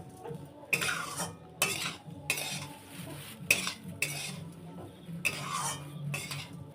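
Semolina halwa with sugar stirred in a pan, a metal spoon scraping and clinking against the pan in repeated strokes, with a low sizzle of frying underneath, close and moderately loud with no talking.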